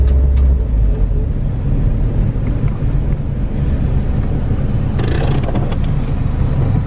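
Car with a turbocharged B20 VTEC engine driving under its own power, a loud continuous low engine drone with road and wind rumble, and a brief hissy burst near the end.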